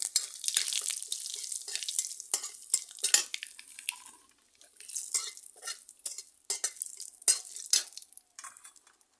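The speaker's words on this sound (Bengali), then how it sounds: "তেল গরম হয়েছে এখন রাইস সর্ষে ফোড়ন দিচ্ছি হচ্ছে আর হিং" Mustard seeds and asafoetida tempering in hot oil in a pan, with bright crackling sizzle and rapid popping bursts, close and fairly loud, tapering briefly midway before crackling again.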